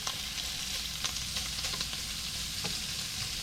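Food browning and charring in a pan, a steady close sizzle and frying hiss with faint scattered pops, running continuously with no talk.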